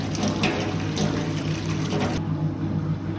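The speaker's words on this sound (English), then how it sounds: "Get a little bit of warm water in." Warm tap water running into a basin for washing fabric before sewing, a steady close splashing flow that stops abruptly near the end.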